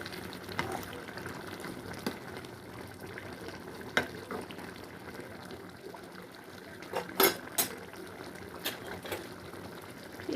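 Potol and shrimp curry bubbling in a pan after hot water is added, a steady low simmer with soft stirring and a few brief clinks of a utensil against the pan.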